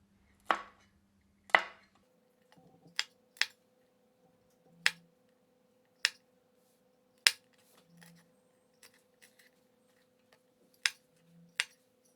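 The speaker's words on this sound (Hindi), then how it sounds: "पांच से 6 हरी मिर्चों को 2 भागों में काट लेते हैं।" Green chilies are sliced in half with a knife on a board for a summer squash sabzi, giving a series of sharp, isolated cutting clicks spaced a second or so apart, close and clear with no talking.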